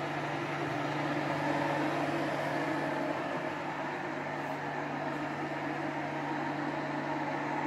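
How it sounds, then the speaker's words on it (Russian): An electric kettle heats water in a small kitchen, a steady low hum with a soft, rushing hiss that holds at an even level throughout, nearby and without talk. "Чайник уже греется"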